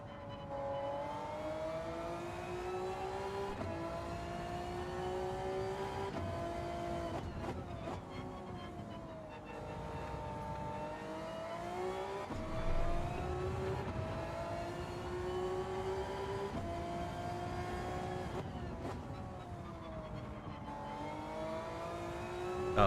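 A GR3-class race car engine in Gran Turismo 7 drones continuously through a league race, rising and falling with gear changes and corner exits, loud and steady throughout without talk.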